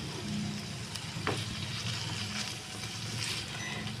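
Ginger curry ingredients frying on a low flame, a continuous gentle sizzle with a light stirring scrape or two, heard alone without talking.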